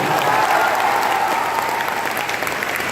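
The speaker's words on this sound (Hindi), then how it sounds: "मैं कहता हूं एक बार जोरदार बिहार के लिए तालियां बजा दो" Loud, dense audience applause at a motivational seminar in Darbhanga, Bihar, a steady wash of many hands clapping close by that holds for the whole stretch with no voices over it.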